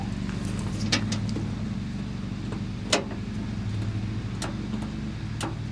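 A diesel engine with faulty glow plugs cranks without catching, giving a steady rhythmic mechanical churn with faint ticking and a few sharp clicks, heard nearby at moderate volume.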